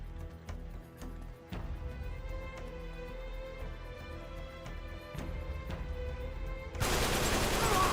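Rapid gunfire from the video game Uncharted 3 cracks out in repeated sharp shots over a tonal game soundtrack, ending in a dense, loud burst of noise.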